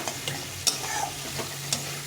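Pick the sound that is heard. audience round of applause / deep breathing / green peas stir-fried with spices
green peas stir-fried with spices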